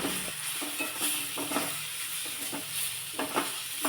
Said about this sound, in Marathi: बेसन पीठ घातलं की काही सेकंदा करता हे अजून एकदा परतून घ्यायचं